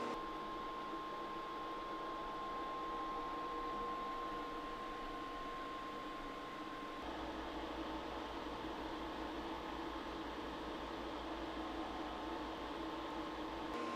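An InstantChill ice cream machine by InstantPot settles into its churn cycle, a steady whirring motor hum with a constant whine that drops to a lower, heavier drone midway and then runs on evenly.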